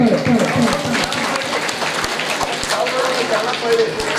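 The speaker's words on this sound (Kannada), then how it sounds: "ಸದ್ಗುರು ಸಿದ್ಧಾರೂಢ ವಿದ್ಯಾಭ್ಯಾಸ ಮಾಡತಕ್ಕಂಥ ಪಾಠಿ ಕೈತಲ್ಲ ಹಕ್ಕ ಚಪ್ಪಾಳೆ" An audience claps at a temple event for Sri Siddharudha Swami, moderately loud, with an announcer's voice talking over it.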